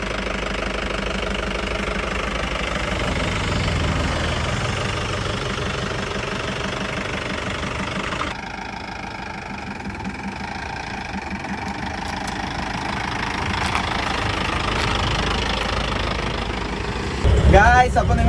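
A modified Mahindra Major CL 550 MDI turbo 4x4 diesel engine idles with a steady, knocking rumble close up, under someone talking, with clatter and a louder burst near the end.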